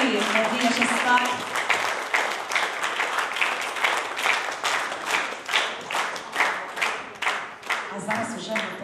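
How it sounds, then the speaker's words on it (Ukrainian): An audience at a charity concert applauds, dense clapping that starts full and gradually thins into a rhythmic patter toward the end. "ваші бурхливі оплески, Надія Шестак."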